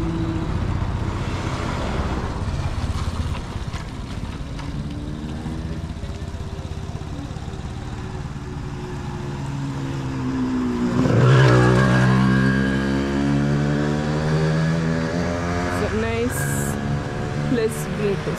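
A car passes on an evening neighbourhood street in Bugolobi, Kampala, its engine swelling and fading partway through while a person talks over steady street noise.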